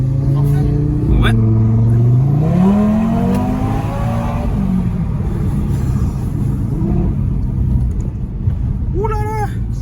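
Audi RS3 tuned past 500 hp launching hard from a standstill, tyres spinning: loud rising engine drone climbing in pitch, then easing, with people talking inside the car over it.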